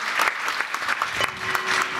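An audience at a Buddhist dharma ceremony claps warmly in a full round of applause that holds steady for the whole short stretch, with no speech over it.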